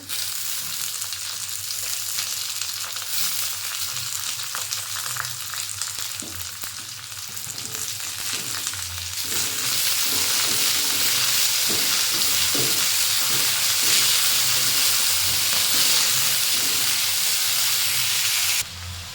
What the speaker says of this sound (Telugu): బాగా వేగినాయి. ఇప్పుడైతే పొనగంటి కూర వేసుకోవాలి.